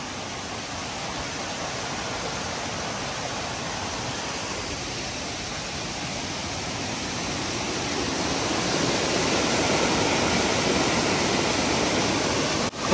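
A rain-fed stream flows near Mahabaleshwar in Maharashtra, giving a steady, close broadband rush of water that swells a little toward the end, with no voices.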